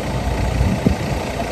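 A car engine hums steadily while driving on a foggy mountain ghat road in the rain, a low continuous drone with a faint thump partway through.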